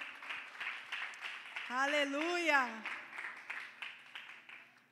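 Church congregation clapping in rhythmic bursts throughout, moderately loud, with a voice calling out over the middle of the applause.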